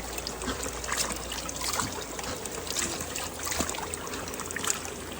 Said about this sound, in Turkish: şifalı su kaynar su